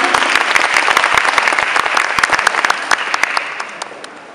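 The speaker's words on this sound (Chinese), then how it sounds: "我们掌声再给他大一点" An audience claps for three shy children walking onstage at a World Book Day spoken-arts event, with sharp individual claps standing out from the steady applause, which thins gradually toward the end.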